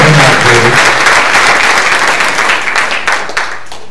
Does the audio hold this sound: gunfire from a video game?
no